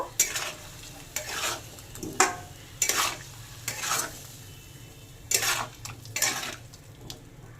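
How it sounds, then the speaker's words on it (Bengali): Spoon stirring fried cauliflower with chili powder, salt and spices in a pan on a gas stove, several scraping strokes in bursts over a low sizzle, close and fairly loud. "এবার ভালো করে নেড়ে সব মিশিয়ে নেব"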